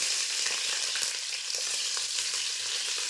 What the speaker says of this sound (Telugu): ఆయిల్ కూడా హీట్ అయిన తర్వాత బిర్యానీ మసాలాలన్నీ వేసుకుంటున్నాను ఇంకా ఉల్లిపాయలు